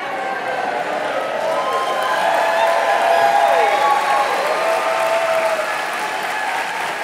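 Sustained applause from a large crowd at an outdoor climate march rally in Kansas City, steady and full across the whole stretch with scattered cheers and whoops rising near the middle.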